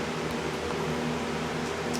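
Steady fan hum fills a closed diesel engine workshop during a Cummins 4BT turbo diesel teardown, a constant low whir with tonal bands and no speech.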